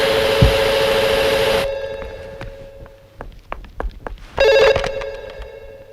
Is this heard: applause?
no